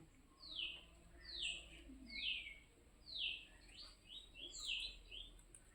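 Birds chirp in a series of about eight or nine sharp, descending calls that come in a loose rhythm, sounding fairly close against a quiet background with no talking.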